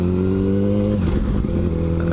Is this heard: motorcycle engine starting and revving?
yes